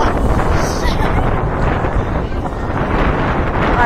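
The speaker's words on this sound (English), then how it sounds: "there's so much wind." Heavy wind roars past riders on the Jack Rabbit roller coaster, a loud continuous rush buffeting the microphone throughout.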